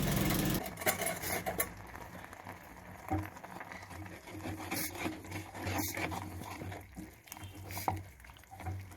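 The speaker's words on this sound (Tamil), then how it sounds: "இப்போது மிக்சியில் அரைச்சி வச்ச அந்த மசாலாவை எடுத்து நம்ம கலந்து விட்டுக்கலாம்." Ground masala being stirred into pulicha keerai (sorrel leaves) in a pan, with a spoon scraping and clattering against the metal steadily and close by over a low background hum.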